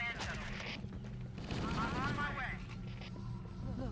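Gunfire in the video game Halo: Combat Evolved, rapid bursts of shots over continuous game noise, with people talking over it.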